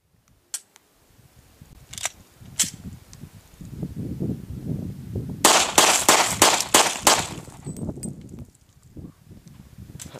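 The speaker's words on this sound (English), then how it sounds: "Try to give that a couple good shots real quick." Glock .40 caliber pistol fired at a tree stump in open desert: two early sharp reports, then a rapid burst of about six loud shots, all ringing outdoors over wind and ground noise.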